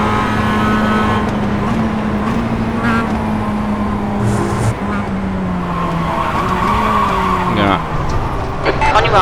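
Mazda race car in iRacing at Virginia International Raceway, engine held at full throttle with a steady droning whine and occasional tyre squeal, loud and close throughout, with a voice talking over it.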